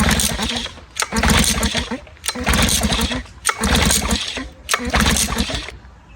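A 1950s Scott Atwater outboard motor is cranked over repeatedly for a compression check, giving four loud, rhythmic bursts of churning mechanical noise with short pauses between pulls.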